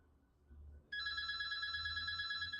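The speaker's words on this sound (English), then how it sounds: "Oops, that's my house phone, which I never use." A landline house phone starts ringing partway through, a steady electronic trill that carries on to the end, heard from a short distance in a quiet room without speech.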